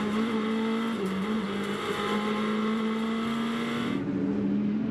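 GT race cars, including BMWs, roar past on an endurance circuit in a loud, continuous engine drone whose pitch rises and dips with gear changes before a sharp shift near the end.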